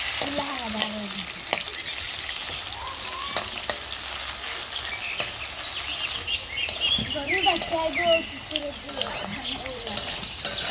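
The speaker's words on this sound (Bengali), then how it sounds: "রান্না করার আগে আমি আলুটাকে একটু মরিচের গুঁড়া, হলুদের গুঁড়া আর লবণ মাখিয়ে হালকা করে ফ্রাই করে নিব" Potatoes coated in chili powder, turmeric and salt fry in hot oil in a village kitchen, giving a steady, close sizzle throughout, with birds chirping and faint voices in the background.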